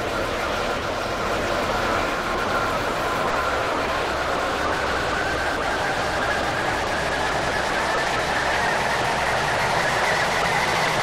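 A Stepford Connect Class 195 train in a Roblox railway game runs at speed, a steady rumbling roll with faint rhythmic wheel clatter and a slowly rising whine, unbroken throughout.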